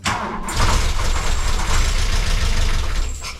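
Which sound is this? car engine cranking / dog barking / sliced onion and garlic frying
car engine cranking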